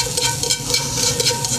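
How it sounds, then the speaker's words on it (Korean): King oyster mushrooms being quickly stir-fried in a pan for a Korean royal court cold platter, a soft continuous sizzle with faint scraping pulses of stirring, fairly close and steady, no talk over it. "새송이를 한번 볶아 보겠습니다."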